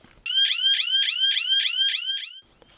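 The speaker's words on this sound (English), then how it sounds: "one presses a button which triggers an alarm on all devices connected to the network" A neighbourhood emergency security device, triggered by a button press, sounds a loud, close electronic alarm of about seven rapid warbling pulses in a steady rhythm, then cuts off.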